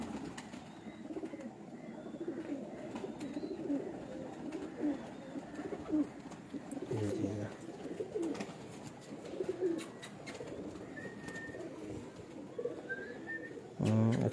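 Pigeons on a rooftop with steady soft cooing and scattered bird calls over low background noise, faint throughout with a few brief louder moments.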